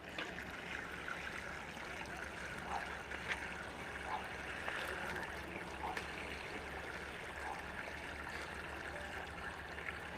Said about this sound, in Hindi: शेष हम इसमें पानी भर देते हैं।